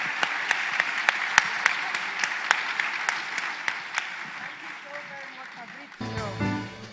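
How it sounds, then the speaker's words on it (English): Scattered, distinct hand claps from a conference audience at the 2023 Global Digital Services Summit in Jamaica, applauding a group of leaders; the clapping thins and fades, then a speaker's voice begins near the end. "A big applause for this amazing group of leaders."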